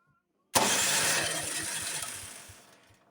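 A Honda snowblower engine turned over by its electric starter: a sudden burst of rapid, rhythmic cranking that chugs steadily for a couple of seconds without catching, then winds down, heard up close with no talking.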